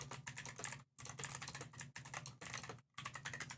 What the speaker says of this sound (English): and Max gets to hear the keyboard